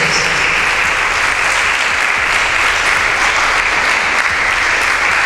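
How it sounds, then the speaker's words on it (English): Sustained audience applause at a school debate in Nigeria on returning to a regional system of government, a loud, even wall of many hands clapping that holds steady throughout without voices. "A round of applause for the introduction."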